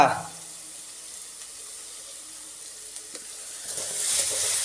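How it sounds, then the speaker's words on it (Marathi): A frying mixture of onion, garlic and chili paste gives off a faint, steady sizzle. A louder stirring burst comes at the start and the sound swells again near the end. "असं मस्तपैकी मिश्रण हलवून घ्यायचं कांदा लसूण मिरची"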